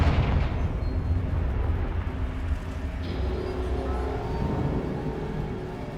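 A Confringo fire spell blasts in Hogwarts Legacy, a loud, rumbling explosive burst at the start that settles into a sustained low roar and crackle filling the whole stretch.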